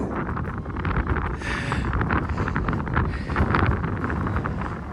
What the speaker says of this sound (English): it was the wind that mostly was getting to me on this particular day